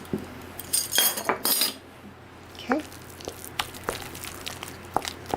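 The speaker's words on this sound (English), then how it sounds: "I'm going to be beating this with my little hand beater." Metal clinks and scrapes against a bowl as a hand beater works through pie filling, irregular bursts of clattering with short pauses between them.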